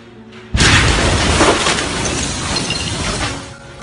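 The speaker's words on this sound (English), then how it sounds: "The explosion was caught on camera 11 kilometers away in the Dabia Marina." A sudden, massive blast from the Beirut port explosion in Lebanon, heard 11 kilometres away, erupts after a moment of quiet, followed by a long roaring rumble with crackling debris that slowly fades.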